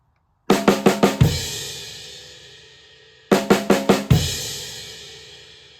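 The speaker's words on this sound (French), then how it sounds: "on va finir avec la crash et la grosse caisse bien sûr" Drums play alone: a quick run of snare strokes ends on a heavy crash cymbal with bass drum that rings out, then the same drum break fill repeats.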